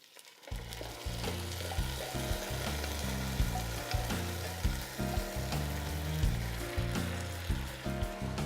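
Browned onions and added tomatoes fry in a pan for chicken tortilla soup, a continuous bright sizzle running under steady background music with an occasional light stirring tap.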